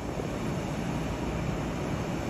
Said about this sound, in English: Right over the top of this train is an El Al Dreamliner from Tel Aviv.